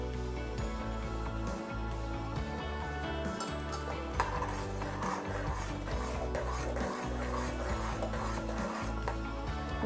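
Flour being stirred a little at a time with salt into undrallu dough in a pot, giving a steady scraping, rubbing sound with occasional faint clinks of utensil against metal, continuous and fairly quiet.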